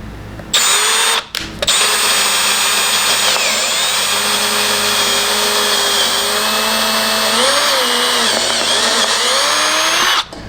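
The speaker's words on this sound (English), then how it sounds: "I'm going to go up one more drill bit size" A power drill fitted with a larger bit bores out a stuck pin in a 100-year-old safe, whining loud and steady at close range for about ten seconds, with a couple of brief pauses near the start and a slight drop in pitch as it bites.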